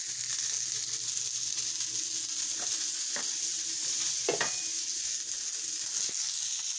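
An Angus beef Bubba Burger fries in a pan with a steady, bright sizzle throughout, broken by a few soft scraping taps from a utensil near the middle and end.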